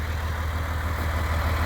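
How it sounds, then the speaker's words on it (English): A farm tractor idles steadily and close by, a low, even rumble with a regular beat that holds without change throughout. "And then we'll shut this tractor off"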